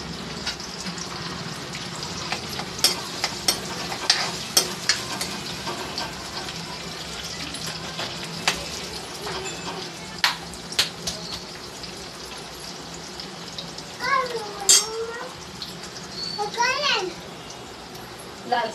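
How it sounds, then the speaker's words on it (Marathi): Chopped onion sizzles in hot oil as it is stirred, giving a steady soft crackle with occasional scraping and clinks. A voice talks over the cooking. "आता ते चांगलं आपण परतून घेऊया कांदा तेलामध्ये."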